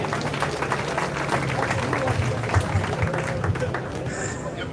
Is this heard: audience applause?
yes